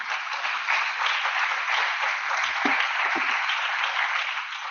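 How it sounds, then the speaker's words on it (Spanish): Sustained applause from the audience at the close of a medical lecture on status epilepticus, a steady, even roar of many hands clapping, heard alone and somewhat distant, with a couple of faint knocks midway. "Ahora sí pueden aplaudir."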